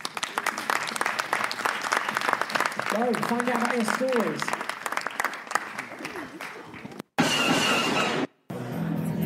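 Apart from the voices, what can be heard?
audience applause at live event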